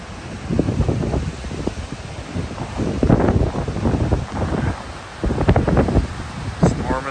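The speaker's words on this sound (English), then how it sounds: "Ooh, that wind is hot." Hot storm wind gusts outdoors near a cabin in the Porcupine Mountains, loud and rough against the microphone, with bursts of rumbling buffeting and a voice briefly over it.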